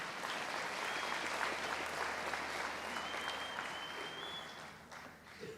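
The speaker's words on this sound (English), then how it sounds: "go ahead, you can clap that" Sustained applause fills the hall at a high school National Honor Society induction ceremony, a broad, even wash of many hands clapping without pause, easing slightly toward the end.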